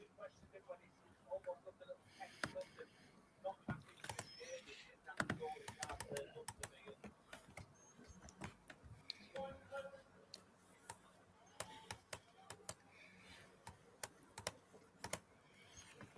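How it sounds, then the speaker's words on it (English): Quiet, rapid clicking of computer keyboard typing, close and faint, in uneven bursts during a live darts watchalong stream, with people talking over it. "I can hear you typing, mate."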